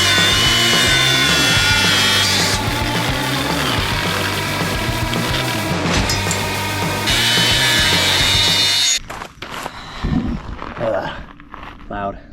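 A power tool cuts plastic at a campsite, just above a wire mesh. It is a loud, sustained buzzing whine with a steady rhythmic grind that runs for about nine seconds, stops abruptly, and gives way to quieter handling noises and scraping.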